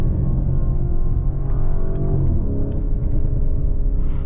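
A 2025 Lamborghini Urus SE facelift, a V8 hybrid, rumbles loudly and continuously up close as it downshifts, with a few faint crackles and pops layered over the deep engine drone.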